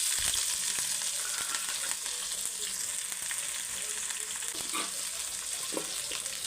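Slit green chillies and thinly sliced onions fry in a pan for a cauliflower fry, a soft, steady sizzle with occasional faint clinks and scrapes, fairly quiet and without speech.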